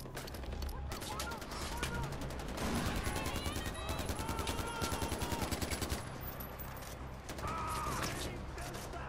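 Rapid AK rifle fire in the Far Cry 4 video game, a dense sustained burst of shots over game music and effects, loud and continuous across the clip.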